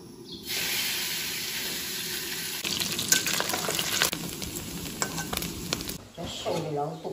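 Pork fat renders and sizzles in a wok as it is stir-fried for dumpling filling, a loud, steady frying hiss broken by scraping and stirring clatter close by.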